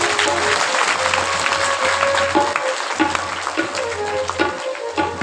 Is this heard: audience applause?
yes